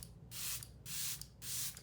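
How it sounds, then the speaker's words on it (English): Charlotte Tilbury makeup setting spray misted in three even bursts, each a soft hiss lasting about half a second with short pauses between, close and fairly quiet. "I like to spray with my Charlotte Tilbury spray"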